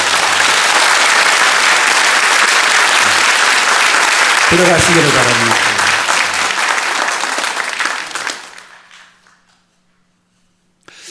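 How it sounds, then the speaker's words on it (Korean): A church congregation at a Sunday morning service applauds loudly to welcome newly baptized members, a dense sustained roar of clapping with a voice speaking briefly over it before the applause dies away into near silence. "인사하실 때 큰 박수로 한번 환영해 주세요"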